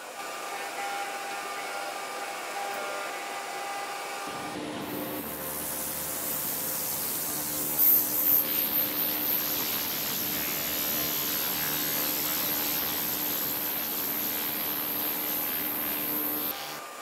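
An ultrasonic cleaning tank with a magnetostrictive transducer and film detergent, used for primary cleaning, switches on abruptly after a quiet hum and then runs as a steady, loud broadband hiss with a thin high whine until the end.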